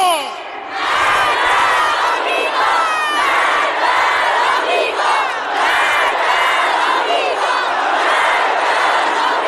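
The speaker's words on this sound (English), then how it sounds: "You also hear Iranians were chanting also "Death to America" at this." A huge Iranian crowd at a funeral chants in loud rhythmic unison, the repeated slogan rising and falling in waves across the whole stretch after a brief quieter start.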